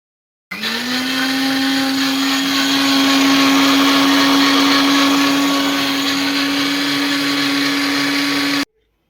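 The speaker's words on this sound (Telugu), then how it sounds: "ఇప్పుడైతే మిక్సీ పట్టుకుందాం." An electric mixie blender whirs steadily while blending mango juice, starting abruptly and running at a loud, even pitch for about eight seconds before cutting off, with no talk over it.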